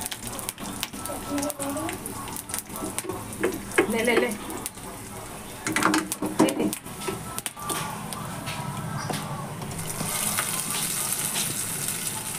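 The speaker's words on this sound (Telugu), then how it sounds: "వేయించుకొని వీటిని అయితే మిక్సీ పట్టుకొని తాలింపు అయితే పెట్టుకుంటున్నా" Tempering spices sizzle in hot oil in a pan for peanut chutney, a steady frying hiss with bursts of crackle and clinks, while a person talks over it.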